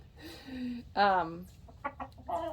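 Chickens cluck in a morning yard with a rooster among them; a soft low cluck, a louder squawking cry, then scattered short clucks, with a voice talking nearby.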